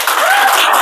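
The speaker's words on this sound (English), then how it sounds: "Let's welcome her with a huge round of applause, Dr. Rizvi." Audience at a gala keynote event applauding to welcome the speaker, a brief dense burst of clapping with a faint tonal voice-like trace running through it.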